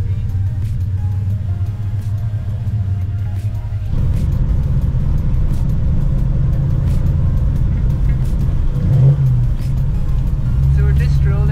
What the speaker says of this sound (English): test driving the car just to make sure that nothing sounds or it's not overheating